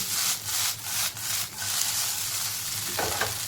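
An okra dish is stirred in a pan with spices added, giving scraping, rubbing strokes in a loose rhythm over a faint sizzle, ending with a couple of lighter clicks.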